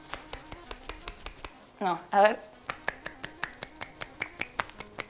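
A single hand flaps and slaps against itself in a steady run of sharp, snap-like clicks, roughly three per second, close and fairly loud, pausing briefly while a person speaks midway.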